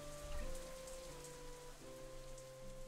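Rain falling on rain-soaked streets in the Katawa Shoujo video game, a soft, steady patter under faint sustained background music tones, quiet and continuous.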